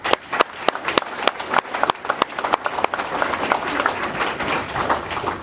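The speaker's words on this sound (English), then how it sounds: "I will give you an applause." Audience applause at a Memorial Day veterans' salute ceremony in Hillsborough Township, starting as a few distinct sharp claps and thickening into steady, dense clapping from a nearby crowd, with no talk over it.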